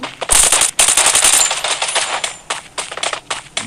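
Rapid bursts of AM rifle gunfire in the Free Fire mobile shooting game, loud and sharp with quick repeated shots in clusters, no talk over them.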